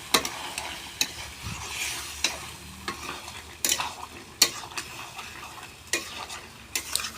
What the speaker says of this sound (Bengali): জল হয়েছে, এখন কষতে হবে।